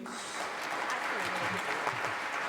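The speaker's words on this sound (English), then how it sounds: "Can we give a round of applause, please?" An audience at a political evening event with the Liberal Democrat leader gives a round of applause, dense continuous clapping filling the room, with voices and chatter mixed in underneath.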